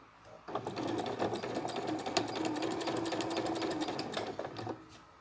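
A sewing machine stitching binding on a Christmas quilt runs in one steady burst of about four seconds, a rapid mechanical whir with fast needle clatter that starts and stops abruptly, close and fairly quiet.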